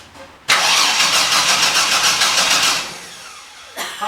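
A Vortec 4200 engine in a Ford Fairmont Futura cranks and catches, bursting into a loud, steady run for a few seconds before dropping back, then a brief second surge near the end.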